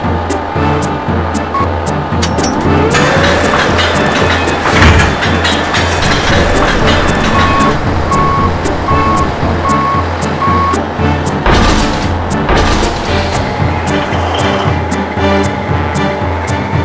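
A toy Caterpillar dirt mover truck from the Matchbox Big Dirt Movers line sounds steady, evenly spaced reversing beeps over a loud, continuous rumble and clatter, with no talking.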